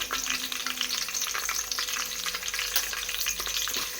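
Chopped onions frying in ghee for a home-cooked chicken biryani, a steady dense sizzle with occasional stirring scrapes, close and continuous with no talking.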